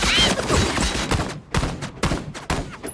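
Sniper shots and scattered gunfire in The Amazing Digital Circus animated series, sharp cracks repeating irregularly amid a busy, loud action soundtrack.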